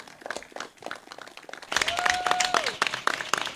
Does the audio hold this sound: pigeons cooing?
no